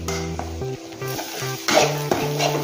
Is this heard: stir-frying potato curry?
yes